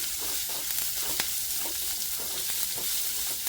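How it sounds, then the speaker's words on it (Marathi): Onion and curry leaves fry in a pan with a steady, close sizzle, with a few sharper crackles and the scrape of stirring breaking through; nobody speaks. "कढीपत्ता कांदा आपला कांदा जरा परतून घेते"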